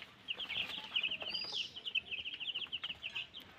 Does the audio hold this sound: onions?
no